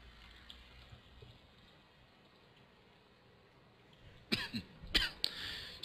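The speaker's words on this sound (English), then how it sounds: "Daggum cough." A person coughs a few times in quick succession near the microphone toward the end, after a stretch of quiet room tone.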